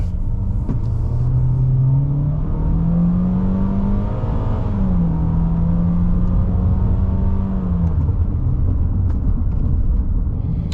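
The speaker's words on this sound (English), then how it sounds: "I'm gonna do this uphill dig. We're flooring it." A 2022 Toyota Corolla Cross accelerating hard at full throttle up a hill, its engine droning loud and steady with rising and falling pitch as the revs climb, dip at a shift, then climb again, close and continuous with no talk.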